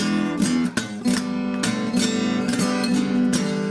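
Unpolished acoustic guitar blues notes plucked one after another, some buzzing and uneven, played alone at a moderate level.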